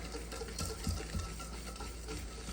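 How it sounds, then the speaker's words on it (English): Dry ingredients for apple fritters, including baking powder, salt and ground cinnamon, whisked together in a bowl, giving a steady close scraping and rustling that runs without pause, with no talking. "Using a whisk helps you just evenly disperse all the ingredients."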